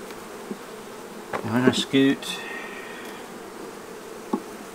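Honey bees buzz around hive frames being shaken during queen banking, a continuous low drone with a louder burst of buzzing midway, and a person speaks briefly.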